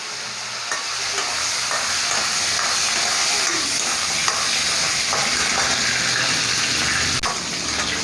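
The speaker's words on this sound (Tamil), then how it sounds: "கடுகு வெடிக்கிறச்சு ஒரு 4 வரமிளகாய் போட்டுக்கலாம்" Mustard seeds, dried red chillies and curry leaves frying in hot oil for a chicken gravy, a loud, dense, steady sizzle with stirring and a few sharp crackles, no voices.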